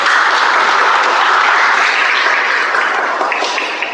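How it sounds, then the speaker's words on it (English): An audience at a Toastmasters meeting claps in a dense, sustained burst of applause, loud at first and tapering slightly toward the end. "recognize among us the Area E1 Director with a huge round of applause, Toastmaster Shashmit."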